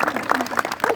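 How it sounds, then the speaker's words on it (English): Applause from the audience at a History Day event, a brief burst of scattered clapping that rises and falls, with some voices mixed in. "Give them a round of applause."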